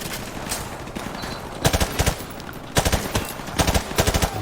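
Gunfire in the Call of Duty Modern Warfare Remastered video game, with bursts of automatic rifle fire over a continuous battle din of distant shots and explosions, loud repeated volleys near the middle and end.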